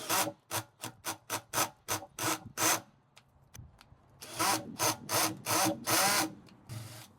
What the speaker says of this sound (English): probably like 30 drainage holes so we can make sure these beans get a lot of drainage